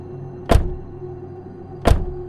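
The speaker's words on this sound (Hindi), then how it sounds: "जंगल में गूंजती दस्तक की आवाजें किसी एक दिशा से नहीं आ रही थीं।" Two heavy, dull knocks about a second and a half apart boom out over a low, steady ambient hum, setting an eerie mood in a dark forest scene of a Hindi horror tale.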